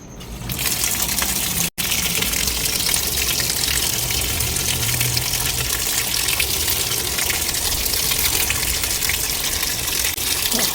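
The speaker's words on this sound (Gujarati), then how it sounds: "હવે પાછું એમને છે ને હું કરું પાણી ચાલુ." Water gushes steadily and loudly through a hose during washing machine repair, a continuous rushing flow with a brief break near the start.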